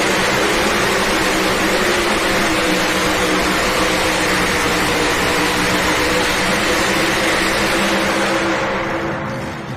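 A pro stock pulling tractor at an indoor winter nationals tractor pull in Louisville roars at full power, a loud, dense, unbroken engine blare that holds steady and only starts to ease at the very end.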